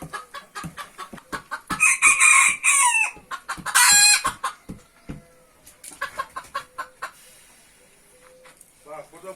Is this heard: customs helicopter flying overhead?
no